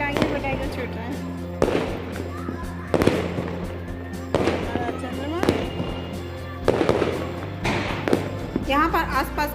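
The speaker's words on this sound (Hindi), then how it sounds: "सब पटाखे छूट रहे हैं।" Diwali firecrackers go off in a steady series of loud bangs about every second or so, some close and some farther away, with crackling and echo between blasts and people talking underneath.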